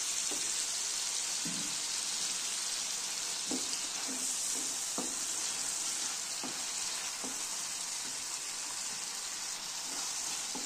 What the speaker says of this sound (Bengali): এইভাবে আমরা ভালো করে কষে নেব, যতক্ষণ না এখান থেকে একটা তেল ছেড়ে আসবে ততক্ষণ আমরা কষতে থাকবো